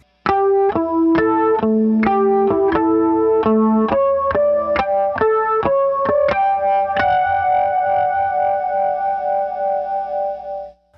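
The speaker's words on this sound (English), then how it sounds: "This time we're going to use harmonics, but in a melodic way." Bell-like chiming harmonics on an electric guitar pick out a slow melody, note by note, ending on a long ringing tone with reverb.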